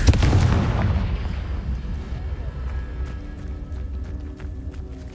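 A Confringo fire spell blasts in Hogwarts Legacy, a heavy booming impact up front that rumbles and fades into a lingering low roar and scattered debris crackles.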